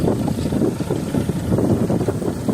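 Loud gusty wind buffets the microphone in rough, rumbling bursts, continuous and close throughout, out in a farm field during barley harrowing with a Scout 504 tractor.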